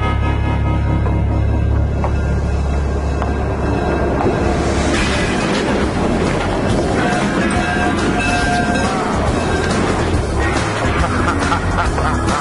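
A railway engine running on track gives a loud, continuous rumble and roar with a clattering, grinding texture that holds steady throughout.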